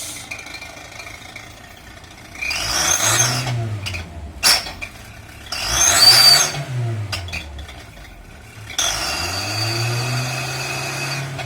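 An automatic car with a modified stock exhaust revs in three rising and falling blips, the last held longer, each a throaty engine surge over a quieter idle, close and loud with no talking.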